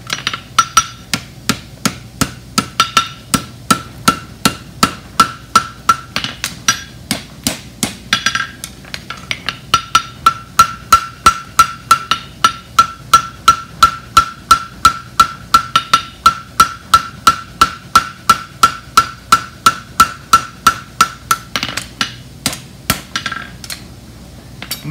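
A steel hammer strikes the heels of a hammer-finish horseshoe on an anvil in a farrier's shop, delivering a long, steady run of close, loud, ringing blows with brief pauses, no voices.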